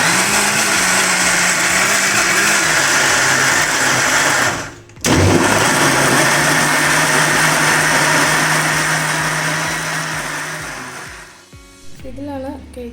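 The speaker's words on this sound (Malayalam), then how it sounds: "ഇത് നന്നായിട്ട് നമുക്ക് മിക്സിയിലൊന്ന് അടിച്ചെടുക്കണം" An electric mixer grinder blends chocolate cake batter with a loud, whirring motor whine. It cuts out briefly, starts up again, then gradually winds down and stops near the end.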